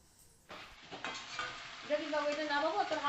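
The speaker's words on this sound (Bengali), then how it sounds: "আর ওই যে মশলাটা বেটেছিল ওই মশলাটা সব দিয়ে দিল দিয়ে এবার সবজিগুলো দিয়ে এবার নাড়বে" Vegetables stirred into a sizzling spice paste with panch phoron in a pan, a loud close frying hiss with scraping stir strokes that builds after a sudden start, and a voice talking faintly underneath.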